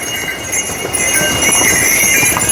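Horse hooves clip-clop in a loose, uneven rhythm on a hard trek path to Kedarnath, close by, over a steady background hum.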